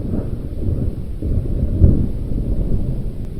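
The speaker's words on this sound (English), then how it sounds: "Is that thunder?" Thunder rolls through a rainstorm, a continuous low rumbling that stays loud and sustained with a slight swell midway, no talking over it.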